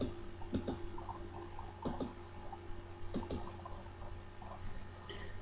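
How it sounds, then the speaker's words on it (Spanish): A computer mouse double-clicks on a chart, sharp paired clicks heard three times at a steady pace against a quiet, faint background. "voy a hacer doble clic para que se me traslade directamente al visor de gráficos"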